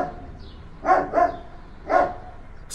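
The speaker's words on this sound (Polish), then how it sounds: "mój pies zatrzymał się i zaczął szczekać w jego kierunku." A dog barking in a forest clearing: three sharp, fairly close barks, two in quick succession and a third a moment later, against a quiet background.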